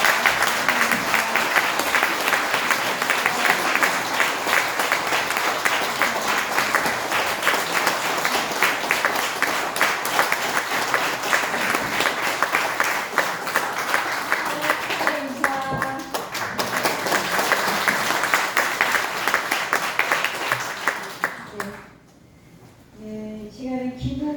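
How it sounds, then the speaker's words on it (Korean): Sustained applause from a church congregation at a pastor's installation ceremony, steady and dense for about twenty seconds before tapering off near the end. "우리 박수 한번 드려주세요."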